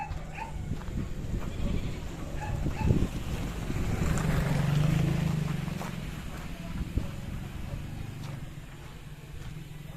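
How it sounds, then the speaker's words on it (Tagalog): A goat bleats a few times at moderate distance over a steady low rumble of wind or engine noise, with some faint voices in the background. "Kambing."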